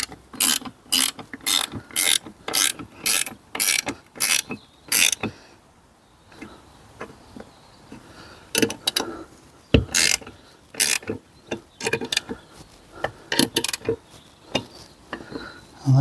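A hand ratchet tightening nuts on a roof rack fitted to a Peugeot 3008 Mk1, a steady run of sharp close clicks in bursts with short pauses, heard alone without talk.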